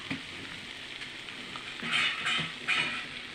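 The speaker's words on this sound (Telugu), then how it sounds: "బంగాళదుంప ముక్కలు వేసాం కదండి." Potato pieces frying in a pan, a steady close sizzle with crackling bursts that swell louder toward the end as the pieces are stirred.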